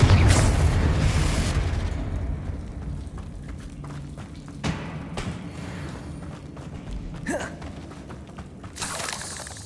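Confringo fire spell blasts in the Hogwarts Legacy video game, opening with a loud rumbling explosion, then scattered thuds and crackling bursts of spell combat, with a final burst near the end.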